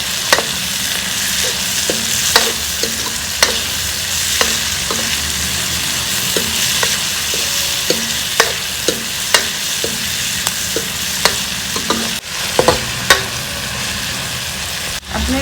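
Golden-browned onions with freshly added chopped tomatoes fry in a pan for a spicy potato curry, a loud steady sizzle punctuated by regular sharp spatula clacks and scrapes against the metal, close up and without talk.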